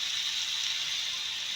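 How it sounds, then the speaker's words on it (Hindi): Steady water noise as water is poured into a pan of cooking chicken, a continuous bright hiss filling the short moment at moderate level with no talking. "अब मैं इसमें थोड़ा सा पानी डालूँगी"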